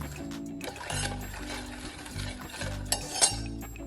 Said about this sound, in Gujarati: એમાં દૂધ લઈ લઈએ. એને પણ એકદમ સારી રીતે મિક્સ કરી લેવાનું